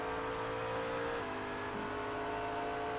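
McLaren and Audi GT3 race cars battle for position at Twin Ring Motegi in a racing game, their engines droning loudly and steadily with a pitch shift midway as they run close together.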